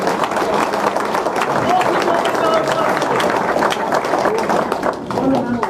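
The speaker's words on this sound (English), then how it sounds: "Let's have a round of applause for Brad" An audience at a talk on carbon policy applauds with dense, steady clapping that fills the whole stretch without a break, and talk carries on under it.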